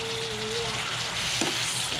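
Shrimp hitting hot garlic butter in a pan, a dense, close, continuous sizzle with no talking.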